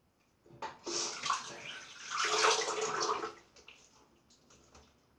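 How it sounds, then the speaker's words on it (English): Water runs from a tap while shaving lather is rinsed off after a shave with a vintage Gillette Quick Twist razor, a steady rushing stream that swells and fades over several seconds, close by and heard alone. "Let's just rinse some of this off."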